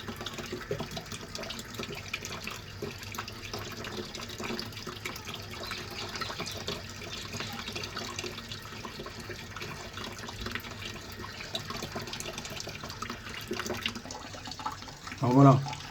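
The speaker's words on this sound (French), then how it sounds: "Faut qu'on les rince bien." Quiet running tap water splashing steadily in a sink while tomato seeds are rinsed, a soft continuous trickle throughout with a brief louder clatter near the end.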